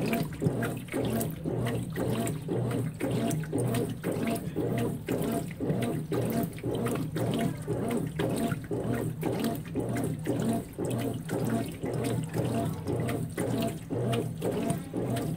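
A Consul 16 kg top-loading washing machine agitates a large load of laundry in water at a high water level, giving a steady, fast rhythmic sloshing and churning that runs continuously throughout.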